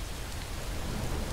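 Rain falls steadily in a video game, a dense, continuous hiss of drops with a low rumbling undertone, no voices.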